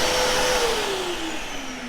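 Close, loud Karcher WD 3 vacuum cleaner in blower mode, a steady rushing airflow with a motor whine that slowly drops in pitch as it continues.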